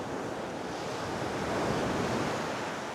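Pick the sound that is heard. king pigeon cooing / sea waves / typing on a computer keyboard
sea waves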